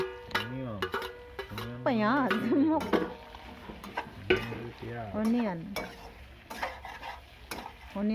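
Chopped onions fried in a pan after ginger, garlic and chilli, scraped and stirred with a utensil in soft sizzling strokes while someone talks throughout.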